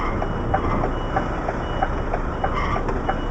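An HGV articulated truck with trailer reverses during a manoeuvring exercise, its reversing alarm beeping in a steady repeating rhythm over a low engine rumble, moderately loud and without talk.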